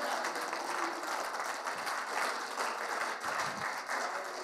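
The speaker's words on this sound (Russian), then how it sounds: "Давайте дадим Ему аплодисменты" Church congregation applauding, a continuous wash of many hands clapping at moderate volume, steady and somewhat distant, with no voices standing out.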